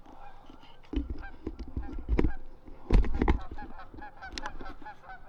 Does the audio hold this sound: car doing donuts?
no